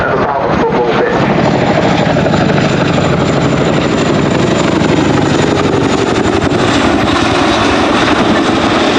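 A helicopter performing a nose-down 270 quick stop at Culdrose Air Day, a loud, steady, close rotor and engine roar throughout with slight swelling changes as it decelerates.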